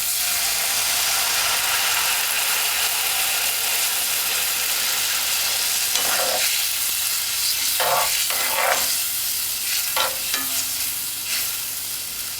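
Salt mackerel run dung with coconut milk and dried herbs is stirred in a sizzling cooking pot, a steady close frying hiss with scraping strokes of the spoon toward the end.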